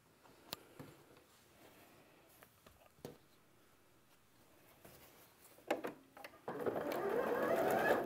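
A sewing machine chain pieces curved quilt block units with a quarter-inch seam, starting with scattered clicks and short bursts before settling into a loud, steady run of stitching near the end.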